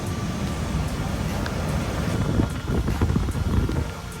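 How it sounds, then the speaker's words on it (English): Strong wind at a Bahamas shore on Eleuthera at low tide, with heavy low buffeting on the microphone that rises and falls in gusts and grows rougher toward the end. "this is definitely a lot windier than I had anticipated"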